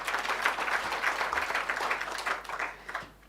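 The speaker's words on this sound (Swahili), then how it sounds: "Pigieni your board members makofi." An audience at a Sacco meeting applauds its board members, a dense, sustained burst of many hands clapping that carries steadily for several seconds before thinning slightly at the end.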